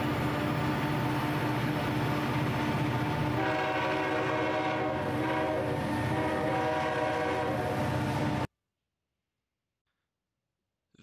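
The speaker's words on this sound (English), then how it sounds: "BC Rail had one in particular for every unit, and that is the Nathan K5H" A Nathan K5H horn sounds on a BC Rail EMD SD40-2 locomotive. Loud, sustained chords blare over rumbling wheels and rail noise for about eight seconds, then stop abruptly into silence.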